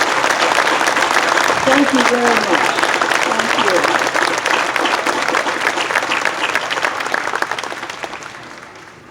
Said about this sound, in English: Please give all of these people a big round of applause.